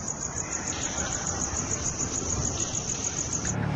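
Crickets chirping in a fast, even pulsing trill that runs continuously at a steady level over a soft background hiss.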